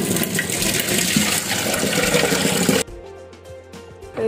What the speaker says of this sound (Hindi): मैं यहाँ चावल धो रही हूँ अच्छी तरह से